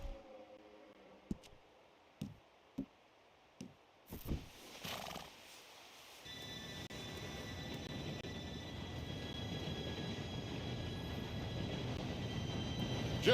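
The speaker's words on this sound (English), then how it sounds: "Train should be here any minute now." After a few sharp horse snorts and hoof clicks in near silence, a steam train's rumble swells in Red Dead Redemption 2, growing steadily louder as it approaches, with a high whistle-like tone over the roar.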